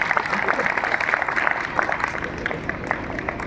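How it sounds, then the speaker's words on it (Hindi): People at a farewell ceremony clap in a scattered, uneven patter, fairly light and close, with voices murmuring under the clapping. "सभी लोग ताली बजाएंगे"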